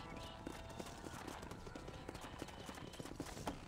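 Horse hooves clip-clopping in the Red Dead Redemption video game on a ranch, a steady rhythmic trot of repeated hoofbeats at moderate distance, with faint background game ambience.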